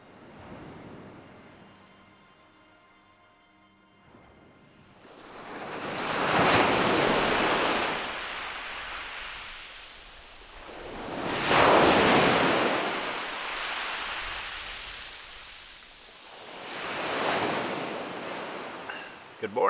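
Ocean waves break on a remote Vancouver Island shore, three big surges of roaring surf rising and fading in slow succession, near and loud with wind hiss between them.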